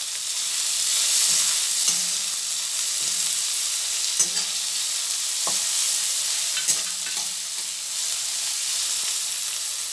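Finely chopped onion, two medium onions, and a spoonful of minced ginger fry in a pan with a steady, close hiss, broken by a few light clinks and scrapes as they are stirred.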